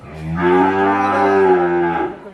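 Holstein Friesian heifer on a dairy farm lets out a single loud, close moo of about two seconds with a clear, steady tone and nothing else audible.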